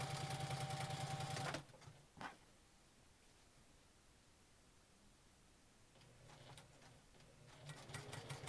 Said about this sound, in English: it's just a matter of sewing a simple 4-patch together